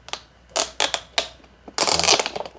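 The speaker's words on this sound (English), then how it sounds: "So I'll try to unwrap this one also." Crinkly plastic packaging of an Edifier audio cable being unwrapped up close, several sharp crackling rustles in bursts with short pauses, ending in a longer crunchy stretch.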